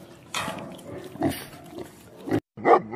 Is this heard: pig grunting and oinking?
yes